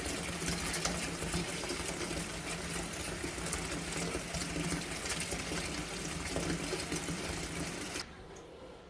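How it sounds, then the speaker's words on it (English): Cold tap water gushes steadily and loudly into a pot being filled for boiling farm fresh eggs, a continuous rushing stream that cuts off abruptly near the end. "fill it with ice cold water"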